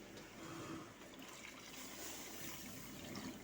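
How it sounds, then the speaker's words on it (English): Water pours steadily into a pot of chicken stew with carrots and potatoes, a continuous splashing rush lasting throughout at moderate loudness with no talking. "now we can put water."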